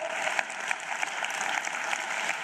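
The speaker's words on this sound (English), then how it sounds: "Applause, please, for our Minister of Basic Education, Sibue" An audience applauds steadily and densely at the 2024 matric results announcement event in South Africa, greeting the Minister of Basic Education. The clapping is continuous and even for its whole length, with no talk over it.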